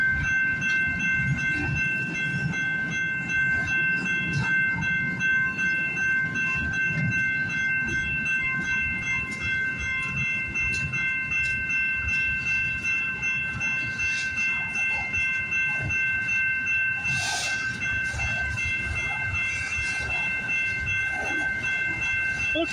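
A CN locomotive leads a freight train past Osler Street in Toronto, its steady loud rumble and rolling wheel noise filling the whole stretch, with a brief brighter squeal or horn-like burst near the end.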